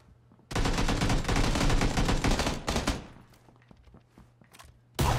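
Rapid automatic gunfire in PUBG bursts loudly and continuously for about two seconds, then trails into scattered fainter shots and one final close burst, with no talk over it.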